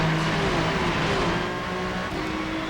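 Ferrari 296 GT3 race car in iRacing at the Zandvoort start, engine at full throttle: a loud, steady, droning roar with rising pitch as it accelerates, other cars close by, no talking.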